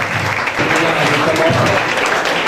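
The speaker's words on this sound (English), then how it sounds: "Clap your hands together." An audience applauds at an academic valedictory service, a dense sustained clapping that stays loud and even throughout.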